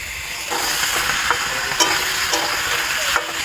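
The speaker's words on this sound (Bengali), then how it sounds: "দিয়ে সবজিগুলোকে ভালো করে ভেজে নেব" Vegetables with green chillies and peas fry in a hot pan for a fish curry, a continuous close sizzle broken by several sharp clicks and scrapes of stirring.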